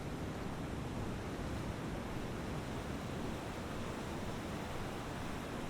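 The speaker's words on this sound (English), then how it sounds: "waves breaking gently on the shore." Gentle waves breaking on a sandy beach, a soft continuous wash of surf that holds an even, faint level throughout with no voices.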